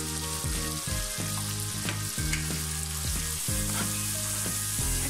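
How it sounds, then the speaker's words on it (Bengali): Ground spices with chilli, cumin and coriander powder sautéing in a pan for Bengali egg curry, giving a steady close sizzle broken by repeated scraping strokes of a stirring spoon. "এখন আমি মশলাগুলোকে ভালোভাবে কষিয়ে নেব।"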